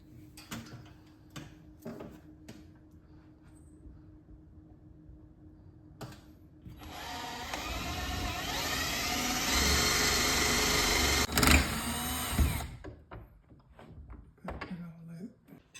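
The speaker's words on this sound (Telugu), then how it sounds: "సో దీంతో మనం డ్రిల్ చేద్దాం" A power drill whirs loudly into a wall for several seconds, rising and holding steady before cutting off, with scattered knocks and handling sounds before and after.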